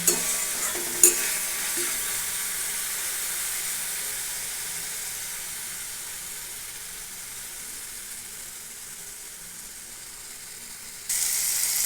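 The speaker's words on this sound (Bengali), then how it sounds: "মশলাটা খুব ভালোভাবে কষিয়ে নেব যাতে মশলার চারিধার থেকে তেল ছেড়ে আসে" A spice paste is stirred and fried in oil until the oil separates, for a village-style green jackfruit dish. A steady, hissing sizzle fades slowly over time, with a couple of sharp scrapes at the start and a burst of louder frying at the end.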